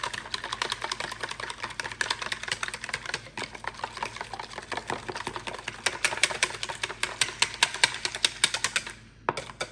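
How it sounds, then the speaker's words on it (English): Three eggs and miso paste get whisked hard in a bowl, with rapid, steady clicking strokes of the whisk against the sides running nearly nonstop and close up, then a short pause at the end. "Use a whisk."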